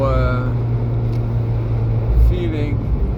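Abarth 595c MTA Turismo convertible exhaust produces a steady low engine drone with a brief rise in rumble midway, heard from inside the car beneath someone talking throughout.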